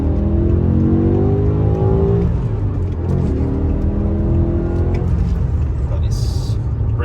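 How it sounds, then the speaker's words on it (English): A BMW E60 M5 with its V10 and six-speed manual pulls hard on the road, engine note rising through the gears with a brief shift dip, steady and loud from inside the cabin. "Oh, and this V10 is just incredible."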